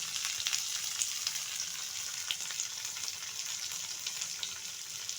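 Crushed garlic and slit green chilies frying in hot oil in a pan give a steady, hissing sizzle with small crackles and pops, fairly quiet and continuous, with no voices.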